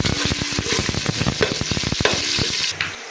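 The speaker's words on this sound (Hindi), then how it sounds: "प्याज डाल दिए हैं, प्याज थोड़े से ब्राउन करने हैं" Onions browning in a cup of hot ghee for chicken pulao, a loud, close sizzle broken by repeated stirring and scraping knocks, then quieter bubbling at the end, with no one talking.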